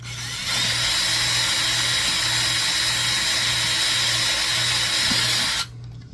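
A power drill whirs steadily for several seconds at close range, drilling through a plastic 1:72 scale submarine model part, then stops abruptly, leaving a quiet tail.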